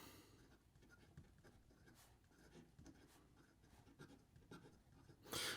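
A Montegrappa 007 Special Issue fountain pen with a 14 karat gold medium nib writes on paper, a very faint close scratching of strokes in an irregular rhythm, with a louder rustle at the end.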